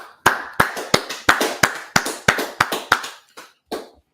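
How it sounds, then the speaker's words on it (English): A run of about eleven crisp, close hand claps at an even pace, tapering off with a few softer, scattered claps toward the end, no talking. "All right, let's clap it up."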